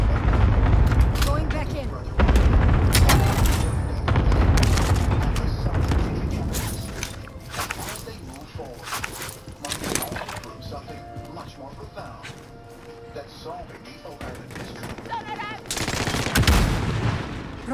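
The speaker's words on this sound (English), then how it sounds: "Fuck, I got people shooting me." Enemy gunfire crackles in Call of Duty: Modern Warfare as repeated bursts of automatic shots and heavier impacts arrive in uneven volleys, loud and close, with someone talking over the firefight.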